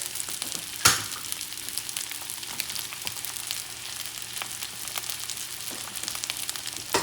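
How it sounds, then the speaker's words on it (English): An egg cracked into hot sesame oil sizzles and crackles steadily in a pan while chicken fried rice is being cooked, with a sharp crack-like burst near the start and soft spatters continuing close by. "And I'm going to crack an egg. Put it there."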